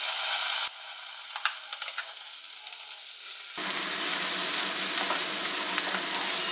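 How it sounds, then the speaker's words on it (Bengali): A spice paste fries in butter with dried chilies, a close, steady sizzle that drops quieter briefly before swelling back to a fuller, louder frying hiss, with faint stirring scrapes. "এবার একটু ভালো করে কষিয়ে নেব।"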